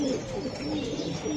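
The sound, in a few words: pigeon cooing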